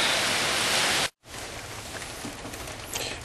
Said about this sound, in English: I have a huge rainstorm blowing in